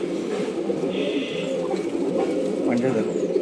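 A male Madras pigeon coos in low, throaty rolls at close range while someone talks over it, with light background noise.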